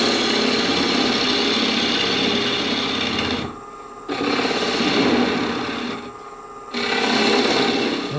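Gouge cutting a natural edge bowl turned from a branch on a wood lathe, a loud steady shearing whine in long passes broken by two brief pauses, with no talking.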